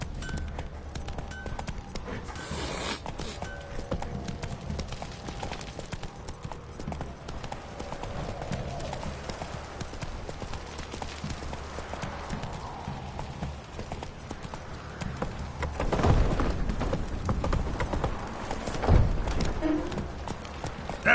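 Geralt's horse Roach galloping in The Witcher 3, a steady rhythmic clip-clop of hooves throughout, swelling louder near the end, with brief speech mixed in.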